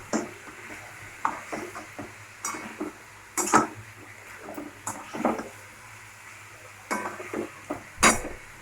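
A spoon stirs and scrapes through a pan of food mixed with spices, giving irregular clinks and soft scraping knocks with brief pauses, close and moderately loud, with no voices.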